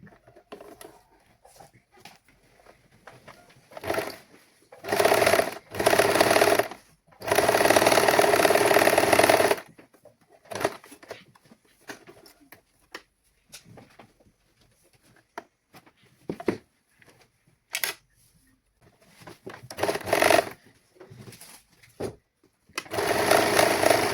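A sewing machine stitches a saree blouse in bursts, loud mechanical runs of a few seconds each separated by quiet pauses, with no talking.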